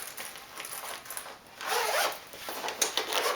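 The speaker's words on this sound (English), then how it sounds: "but you can unzip it" A zipper on the middle compartment of a Longchamp tote bag being drawn open, a close, steady scraping rasp with a stronger pull in the middle and short tugs toward the end.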